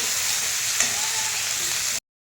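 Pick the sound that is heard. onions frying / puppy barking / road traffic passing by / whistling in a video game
onions frying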